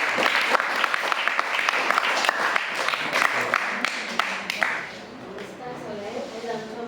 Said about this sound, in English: A big clap to him also.